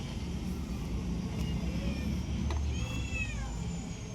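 A cat meows a few times, fairly faint, against a constant low background hum.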